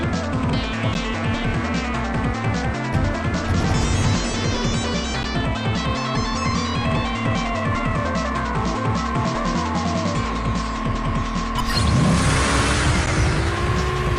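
Mobile racing game car at night speed, engine whining and revving at high pitch with gear shifts and rising tones, loud and continuous, with a sweeping whoosh near the end.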